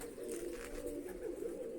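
Pigeons being fed grain give a low, continuous cooing murmur, faint and unbroken throughout with no voices.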